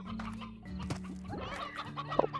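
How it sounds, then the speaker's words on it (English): Several chickens cluck and squawk in the video game Slime Rancher over a low droning background hum, with short, overlapping calls at close range. "Oh, more chickens."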